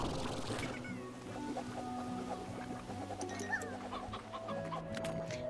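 Painted hens in the video game Slime Rancher cluck and chirp repeatedly over steady ambient game music, close and moderately loud, with no talking.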